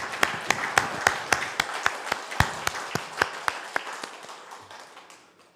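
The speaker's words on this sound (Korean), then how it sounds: "우리 이 시간 큰 영광의 박수를 함께 올려드리도록 하겠습니다" Church congregation clapping together during an Easter worship service, a steady run of sharp, evenly spaced claps in a reverberant hall that gradually fades out near the end.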